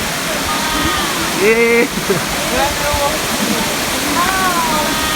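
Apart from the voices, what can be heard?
Tumalog Falls waterfall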